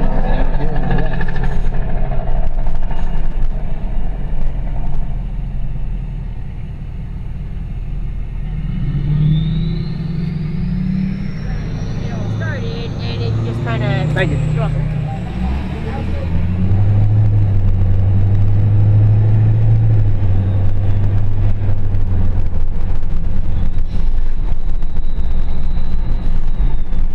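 A 2013 Ford F350 with a 6.7 Power Stroke diesel does a tire burnout at a drag strip, giving a loud, sustained engine roar and rumble with rising revs, heard close up from a helmet cam under some talk.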